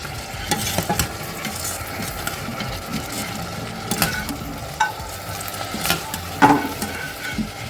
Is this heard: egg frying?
yes